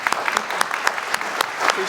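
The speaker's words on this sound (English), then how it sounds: "Can we please give them a round of applause?" An audience at an outdoor Connecticut Freedom Trail dedication ceremony for Pvt. Leverett Holden claps in a brief, steady round of applause, close and fairly loud.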